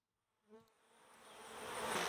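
Honeybees from a queenless cutout colony buzz, first in a soft brief hum, then in a swelling drone that grows steadily louder and nearer.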